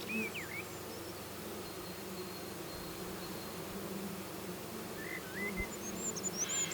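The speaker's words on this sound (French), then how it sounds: "observer l'activité des abeilles au trou de vol" A steady, dense hum of many honeybees buzzing close by at the entrance of a Dadant hive, with a few chirping birds faintly in the background.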